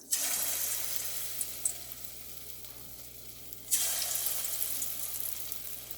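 Masala-marinated paneer dropped into hot oil for paneer 65, a loud, steady close sizzle and crackle that dips briefly, then surges again as more pieces go in; no voices.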